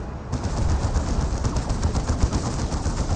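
Autocannon fire in the Dawn of War 2 Elite Mod strategy game, a rapid, sustained stream of loud mechanical shots that starts abruptly and continues as a dense burst through the whole stretch.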